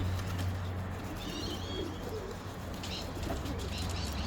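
Racing pigeons coo softly near a loft while returning from a 256 km race, with a few faint chirps and a wing flutter over a steady low hum, the birds fairly close but quiet.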